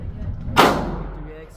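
A single loud handgun shot at an outdoor shooting range, a sharp crack followed by a short decaying echo over light background noise.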